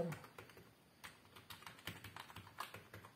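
Numbers typed on a computer keyboard, a quick, fairly quiet run of light key taps at an uneven pace with a slightly firmer press now and then.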